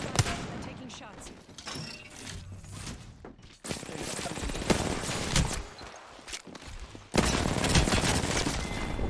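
Rapid gunfire in a battle royale style shooter game, bursts of automatic shots cracking in dense volleys with gaps between, loud and close, while a player talks intermittently.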